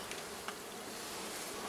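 Honeybees swarm during a giant wild nest rescue at Château de Bouzot, their buzzing a steady, close, dense drone with brief louder passes of single bees near the ear.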